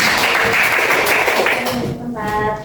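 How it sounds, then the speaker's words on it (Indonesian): A classroom of students applauds after a peer-teaching practice session, with brief, loud, dense clapping that fades near the end and gives way to a voice. "Baik, kasih tepuk tangan untuk"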